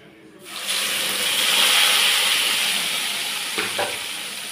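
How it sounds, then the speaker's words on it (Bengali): Onion, green chili and tomato paste drop into a hot kadai and burst into a loud, steady sizzle after a brief quiet moment, with a couple of dull stirring knocks near the end. "এইবার আমি একটু এটাকে ভালো করে ভাজা ভাজা করব, যাতে এই মশলাটা একটু ভালো করে ভাজা হয়ে যায়"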